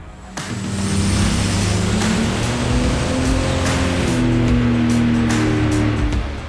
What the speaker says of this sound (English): So right now we're trying a different setting on this dyno to get ready for some big nitrous hits.